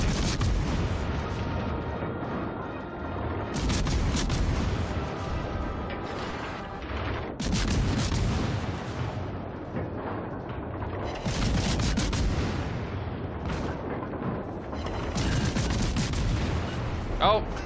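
Naval gun shells fire in World of Warships Legends from the cruiser Worcester, a loud battle soundscape of repeated heavy salvo bursts arriving every few seconds over constant rumbling combat noise.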